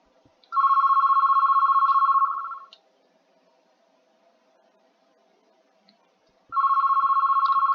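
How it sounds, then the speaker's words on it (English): A telephone rings with a clear, electronic, tonal trill in two bursts of about two seconds each, separated by a long silent gap. It is close and loud, with no talk. "then of course the phone rings."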